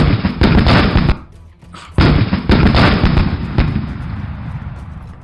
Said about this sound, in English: As the cannon goes off,